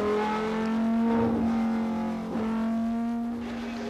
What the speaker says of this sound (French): Le rugissement d'un moteur révolutionnaire, le 1500 cm3 turbocompressé de la Régie Renault.